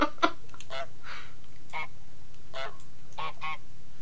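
Goose honks in Untitled Goose Game, a run of about six short nasal honks spaced unevenly, loud and close, standing alone without talk.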